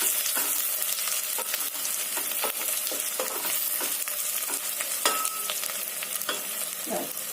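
Food sizzles steadily in a hot pan while a utensil scrapes and stirs in irregular strokes.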